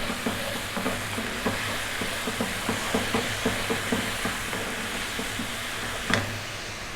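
Garam masala, chili, turmeric and cumin sizzle in a hot pan as they are stirred, a steady hissing fry with soft rhythmic scraping taps and a brief louder clatter near the end.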